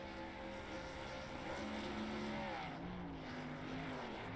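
Two sim racing cars in a racing video game do dual burnouts at the end of a championship race, giving a loud, continuous engine drone with rising and falling revving tones.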